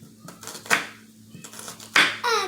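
A knife cutting onion into strips, a few close, crisp chops spaced unevenly against a low background hum, with a brief sound of voice at the end.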